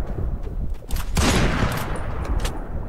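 Rapid bursts of video-game gunfire crackle in overlapping volleys, loud and dense for a few seconds, with no talk over them.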